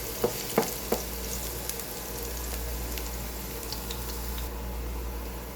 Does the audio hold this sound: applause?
no